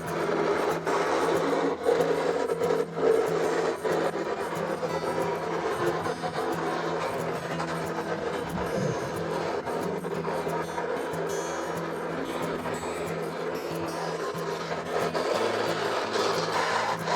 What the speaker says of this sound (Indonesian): Dan kita potong tripleknya sesuai dengan polanya.